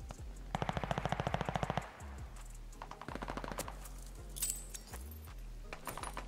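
Rapid automatic gunfire in Call of Duty: Vanguard during a ranked Hardpoint multiplayer match, a tight burst of fast shots followed by more scattered bursts and single cracks, close and fairly loud.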